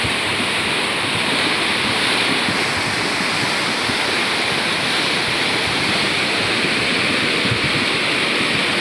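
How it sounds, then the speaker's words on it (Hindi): A raging flooded mountain river roars continuously, a dense, loud rush of turbulent water with no pauses. "और ये पानी देखिए आप कितना भयंकर आ रखा है"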